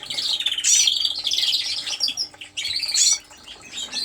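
Red and yellow dimorphic cock and hen birds in an aviary, bursts of sharp squawks and chirps with brief wing flaps, close and lively with no talking.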